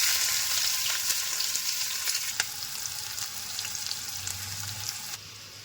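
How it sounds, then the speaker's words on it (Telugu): Green chilies and onions fry in hot oil in a pan for a mushroom curry, giving a steady, close sizzle that carries on evenly with small crackles and no voices. "వేడెక్కిన నూనెలోకి పచ్చిమిరకాయలు మరియు ఉల్లిపాయలు వేసుకోండి."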